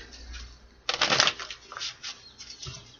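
Tarot cards shuffled by hand, a loud riffling burst near the start followed by softer, scattered card flicks and slides, close and with no talking.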